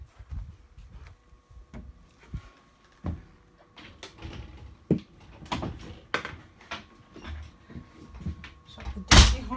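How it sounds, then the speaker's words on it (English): The screen door of a Pinnacle 3HAL gooseneck caravan swings open and shut, producing a series of close, sharp clacks and knocks spread across several seconds, with softer rattles between them. "Shut the door behind me"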